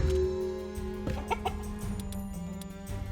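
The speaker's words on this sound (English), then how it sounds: "Where's our chicken farm gone?" Chickens cluck in short scattered calls at a chicken farm in the Citadelum city-building game, set against a steady tonal music bed and background hum.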